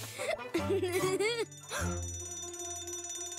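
A fire alarm bell in an animated cartoon about fire trucks rings with a sustained, bright electronic tone, starting right after a short burst of animated character speech.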